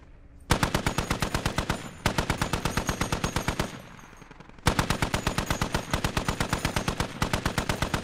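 A machine gun fires in the video game Squad in loud, rapid, evenly spaced bursts. Three long strings of shots are split by short pauses, each burst close and sharp.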